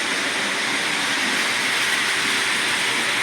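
Lionel model trains on a Christmas layout give off a steady, loud broadband hiss and rumble that continues evenly throughout with no talking.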